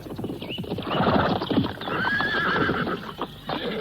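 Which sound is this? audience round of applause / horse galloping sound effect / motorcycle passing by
horse galloping sound effect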